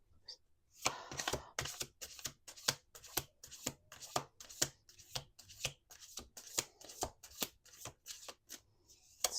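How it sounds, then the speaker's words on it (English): A deck of cards is shuffled over and over, a quiet, close series of crisp rhythmic riffles and taps repeating steadily for several seconds. "Let's do 2 more shuffles."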